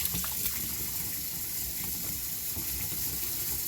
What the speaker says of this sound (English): Okay, turn the water back on.